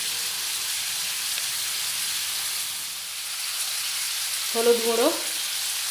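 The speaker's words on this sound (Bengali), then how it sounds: "আলুগুলো এবারে খুব ভালোভাবে লাল লাল করে ভেজে নেব" Potatoes frying in hot oil with salt for a Bengali dish, a steady soft sizzle throughout with a brief voice speaking near the end.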